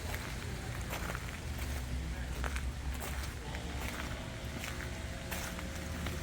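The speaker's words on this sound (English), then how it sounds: "Love the sound of the footsteps on the gravel." Footsteps crunching on gravel paths at historic Colonial Williamsburg, a steady walking rhythm of soft scuffs heard outdoors under constant background noise.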